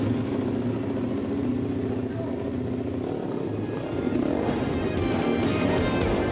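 A modified Honda CRF 50 mini bike runs on a test drive, its small engine giving a steady, buzzing drone that rises into sharper revving toward the end, with a musical or tonal hum layered beneath.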